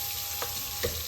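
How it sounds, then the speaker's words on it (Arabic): Onion sizzling and frying in a pot, a steady bright crackle of hot oil with a couple of faint soft scrapes, close and continuous with no voices. "البصيله كتبدا تتقلى كتبدا تتحمر"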